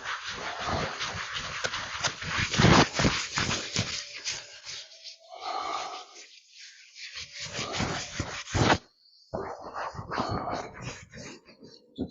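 Palms rub briskly up and down the body during a qigong class, a run of close, steady brushing strokes that pauses briefly near the end before resuming more softly.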